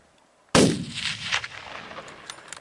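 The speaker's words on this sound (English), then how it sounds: "If you're shooting it, shoot it." A single loud rifle shot while hunting caribou, a sharp crack that rolls out into a long fading echo across open country.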